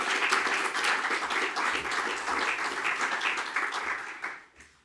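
Audience members at an annual peace research conference applaud an award recipient, with brisk, continuous clapping that holds steady and then fades out in the last second.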